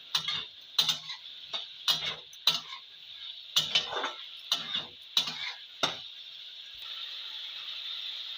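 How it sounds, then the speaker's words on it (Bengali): Potatoes with chili flakes being stir-fried in a pan, a series of sharp, evenly spaced spatula knocks and scrapes against the pan over a soft sizzle that carries on alone near the end. "সব কটা উপকরণ একসাথে কষিয়ে নেবো আমি"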